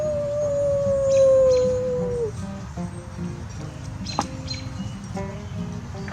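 A single drawn-out howl at the moon that slowly falls in pitch, likely a voice imitating it, followed by quieter background noise and a faint chirp.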